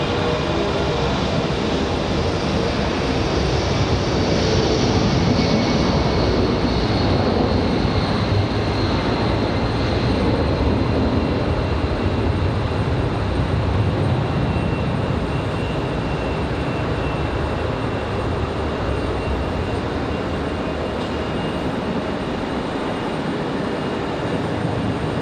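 An American Airlines Boeing 757 departing Raleigh-Durham International gives a loud, sustained engine roar with a high whine, continuous and powerful from start to finish, with no voices.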